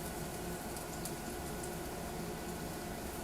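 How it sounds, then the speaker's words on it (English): Dense, even sizzling hiss of food frying in a hot pan, steady and close for the whole stretch, with no voices. "This should sizzle right away."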